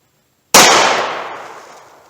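A single sharp gunshot from a .38 Special revolver with a 4-inch barrel firing Buffalo Bore lead-free standard-pressure ammunition, loud and close after a moment of silence, with a long decaying echo.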